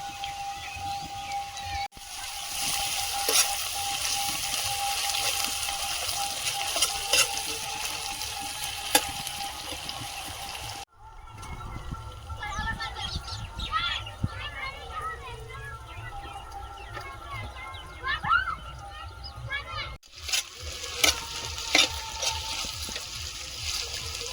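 Garlic paste, then ginger paste, frying in a pan during a Bengali chicken curry cook, a steady sizzle with stirring and scraping running through, while voices talk and children can be heard nearby.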